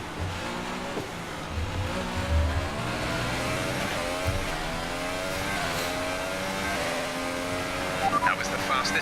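A Formula 1 car in the F1 2018 game races through the Belgian Grand Prix at Spa with a damaged, failing engine. The droning, buzzy engine note holds steady and slowly shifts pitch, with a voice speaking over it.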